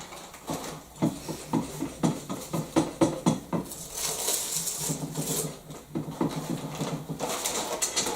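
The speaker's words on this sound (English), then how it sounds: "I'm going to give that a good stir up in the bucket." A stick stirs cured roof primer inside a bucket, giving a steady run of wet, rhythmic swishing and knocking strokes, roughly two per second, close up with no talk.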